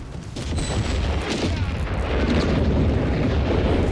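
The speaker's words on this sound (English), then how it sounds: "Another massive barrage there." An artillery barrage in the game Company of Heroes 3, with deep booming explosions rolling together into a continuous heavy rumble that grows slightly louder toward the end.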